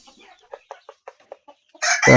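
Several short, evenly spaced clucks from a chicken, fairly close, followed by a louder, harsher squawk or crow from a rooster at the end.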